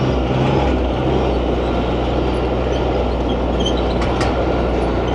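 A tractor pulls a hayride along a bumpy farm route during a fall pumpkin festival, its engine a loud, steady rumble with constant road noise and rattling throughout.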